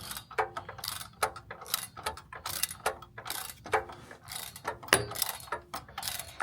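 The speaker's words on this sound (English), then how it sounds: "I got my ratchet just wedged in there on the back. That way I can turn this front one." A hand ratchet clicks rapidly in repeated bursts while tightening a car engine motor mount bolt, up close and loud with no talking.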